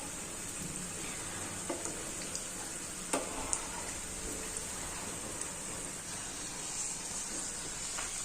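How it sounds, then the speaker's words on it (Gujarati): Potato patties deep-frying in oil until golden and crisp make a faint, steady sizzle with a few small pops scattered through it. "અને ગોલ્ડન બ્રાઉન કલરની થાય અને ઉપરનું પડ એકદમ ક્રિસ્પી થઈ જાય ને ત્યાં સુધી તેને આપણે તળવા દેવાની છે."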